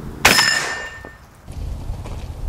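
A single sharp shotgun blast hits a Cold Steel knife, followed by a bright clanging ring that fades, then a low rumbling noise takes over.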